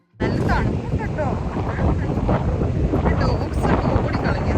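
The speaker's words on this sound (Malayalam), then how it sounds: "നല്ലൊരു തണുത്ത കാറ്റ് തന്നെയായിരിക്കും." Cold wind blows steadily at Sheringham beach on the English coast, a loud, constant roar buffeting the microphone from start to finish with no voices.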